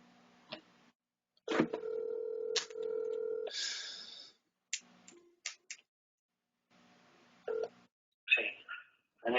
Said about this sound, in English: Let me try his cell phone right now.